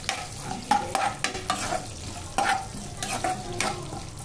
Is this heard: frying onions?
yes